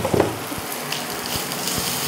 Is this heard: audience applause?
no